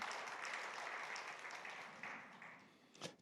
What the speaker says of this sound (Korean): 우리 김재수 선교사님을 위해서 우리 박수로 격려하시고